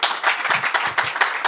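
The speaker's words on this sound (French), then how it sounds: "on peut déjà applaudir nos 5 intervenants" Conference audience applauding the speakers, a dense burst of clapping from many hands that continues steadily throughout.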